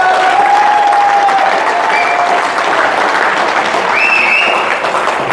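An audience at an agricultural product presentation breaks into sustained, dense applause, loud and even throughout, with a few whistles and cheers rising above the clapping.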